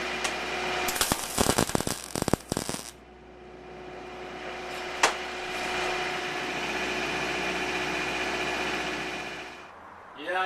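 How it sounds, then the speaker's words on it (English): Tack welding heavy gauge wire onto iron log decor: a burst of sharp crackling arc pulses for about two seconds, then a steady hum of a welder or machine with one brief click, fairly close. "We're just going to weld these on. Just tacking it."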